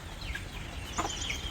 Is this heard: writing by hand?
no